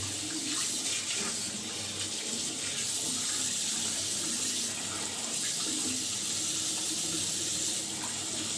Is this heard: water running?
yes